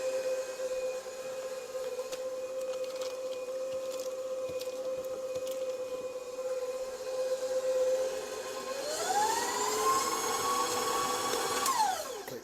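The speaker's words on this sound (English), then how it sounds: "put our paddle attachment back on. We're going to raise this up and beat this for about 1 minute." A stand mixer with a paddle attachment beats almond butter cake batter in a steady, close motor whine, rising in pitch and loudness near the end as the speed is turned up, with no talking.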